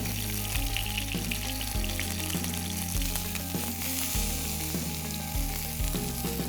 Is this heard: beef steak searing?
yes